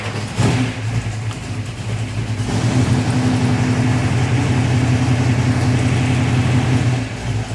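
A car strapped to a chassis dyno revs as it warms up, its engine rising to a steady, loud drone with strong low rumble that holds for several seconds before easing slightly at the end.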